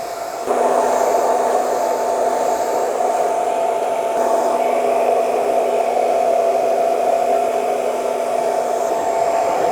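A hair dryer blows steadily and loudly at close range during a men's haircut, a constant whirring hum that runs without pause.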